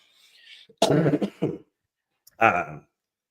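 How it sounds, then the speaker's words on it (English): A cluster of harsh coughs and throat-clearing close up, a short pause, then one more cough. "I keep coughing."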